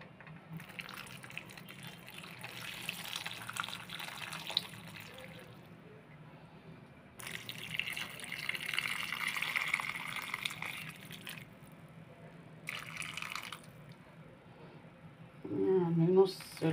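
Fatty soup is poured into a pan of stuffed vegetables in several quiet, splashing spurts separated by pauses, with a faint voice near the end.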